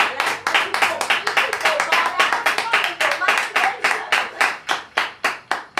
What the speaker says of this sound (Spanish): Pues demos un fuerte aplauso a nuestro Dios